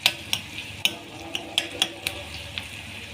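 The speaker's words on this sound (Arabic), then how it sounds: "بعد ما شوحنا البصل مع الدقه" Onions sautéing with a spice mix in a pan for an Egyptian-style fish tray, with a spoon tapping and scraping the pan in an uneven rhythm over a faint, steady sizzle.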